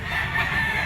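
National banded gamecocks at a pet market, a dense continuous chorus of clucking and crowing from several birds nearby, steady and fairly loud with no talking over it.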